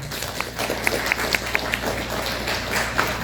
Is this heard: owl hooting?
no